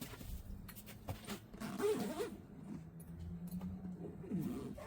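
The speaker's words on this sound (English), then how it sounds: "now this thing zips and unzips like butter." A lubricated zipper on a free-standing awning is drawn back and forth, giving soft, smooth zipping strokes at close range, fairly quiet with faint background noise.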